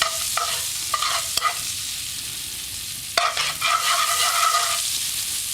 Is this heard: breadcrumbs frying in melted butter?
yes